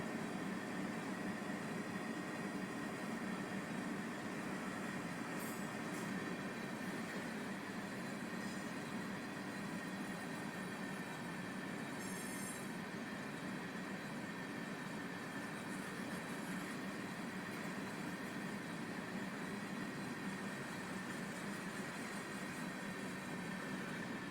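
A train rolls steadily past in Train Simulator 2021 on the Gilroy to Newhall Yard route, a continuous rumble of wheels and cars with faint squeals and clicks from the rails, heard alone without talk.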